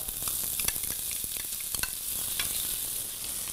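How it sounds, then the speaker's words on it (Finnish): Onions and red bell pepper sautéing in a saucepan for a Spanish vegetable soup, a close, even sizzle with scattered crackles and a few soft spoon scrapes. "Ja lisätään ensimmäisen ne, jotka vaatii pisimpää haudutusta, eli sipulit. Sitten punainen paprika"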